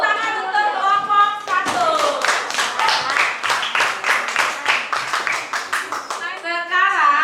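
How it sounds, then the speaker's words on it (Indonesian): Classroom applause for a student group: a burst of rhythmic hand clapping from children follows a teacher's voice, with talk resuming at the start and end around the clapping. "Tepuk tangan untuk kelompok"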